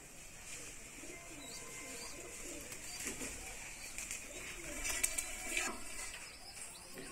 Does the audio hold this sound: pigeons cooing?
yes